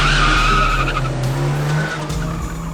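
Car tires skidding in a loud, sustained squeal lasting a couple of seconds over engine rumble and a steady low hum, close by and fading toward the end, with no talking.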